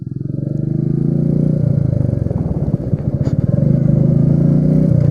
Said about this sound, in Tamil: அந்த ராயல் என்ஃபீல்டு யூஸ்வலாக வந்து அந்த சவுண்ட் இருக்கும்.